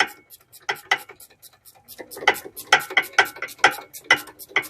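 Ratchet tightening a bolt on the rear brake of a 2017 Genesis G90, a close series of sharp clicking bursts in a steady back-and-forth rhythm, growing louder partway through.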